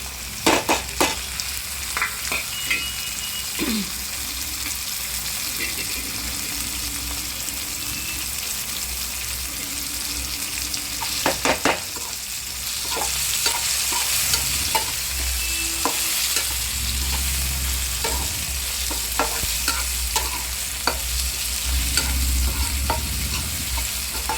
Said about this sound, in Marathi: ही भाजत असताना ह्यामध्ये आपण टॅमॅटो ॲड करत आहोत टमॅटो आणि लसूण ॲड करते